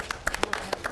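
A handful of scattered, light hand claps at a city council meeting, a few soft, sparse claps in quick succession, faint and brief.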